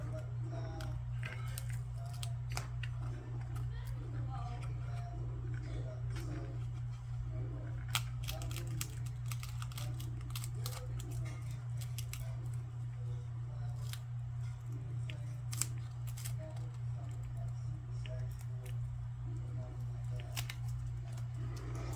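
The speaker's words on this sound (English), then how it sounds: "Let's try to get some of this tape off." Masking tape being peeled from a freshly painted custom build, a soft ongoing crackle and rasp of stripping tape with a few sharper snaps, close up over a steady low electrical hum.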